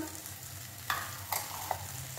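Freshly grated coconut is stirred in a pan while cooking rambha pak, a Marathi sweet. A soft, continuous sizzle runs under a few light scrapes of the spoon, with no talking.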